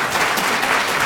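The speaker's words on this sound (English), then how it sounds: "let's give another round of applause for Jeff putting all this together" A lecture audience at a university medical school applauds, a brief burst of thick, continuous clapping from many people, close and fairly loud.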